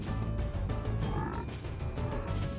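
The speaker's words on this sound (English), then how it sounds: "Oh boy, the frogs. How I loathe these bothersome pests." Frogs in the Spyro 1 swamp level croak repeatedly in quick, uneven bursts, several calls overlapping at close range against a low murky ambient bed.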